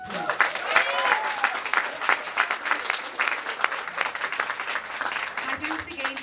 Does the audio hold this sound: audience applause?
yes